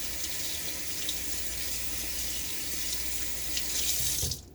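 Tap water runs steadily at a sink as a Gillette NEW d'Luxe safety razor with a Gillette Nacet blade is rinsed; a close, continuous flow with no talking, cut off abruptly near the end.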